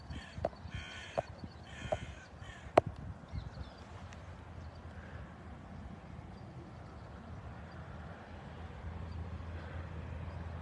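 Harsh caws from several crows ring out near the start, then fade into a steady outdoor background hum with no further calls.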